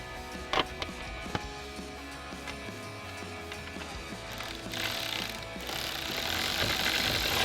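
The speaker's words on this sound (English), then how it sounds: "And now we'll tighten them down with our 10mm socket." A 10mm socket on a ratchet tightening bolts on a 2018-2023 Mustang GT headlight assembly, with faint quick clicks of the pawl and small metallic taps over a quiet background that swells slightly toward the end.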